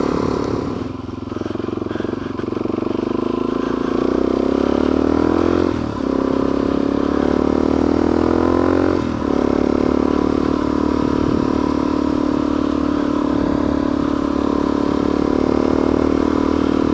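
A motorcycle fitted with a Power Bomb header exhaust climbs the Boreas Pass road, its loud, steady engine drone rising through gears with brief dips at shifts, heard up close.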